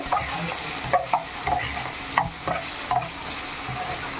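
Potato fry with crushed garlic being stirred in a pan, a constant sizzle broken by repeated scraping and clattering strokes of the spoon in an uneven rhythm.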